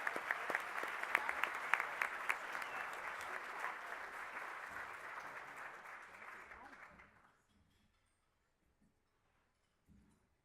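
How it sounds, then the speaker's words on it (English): An audience at an awards ceremony gives a round of applause for honorees from a Colorado water conservancy district: steady, full clapping that gradually thins and dies away, followed by near silence and a faint sound at the end. "please join me in giving these guys a round of applause"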